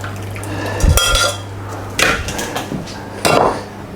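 Cooked beans are drained in a kitchen, with three short bursts of clattering pot against metal and a rush of poured water, close and fairly loud.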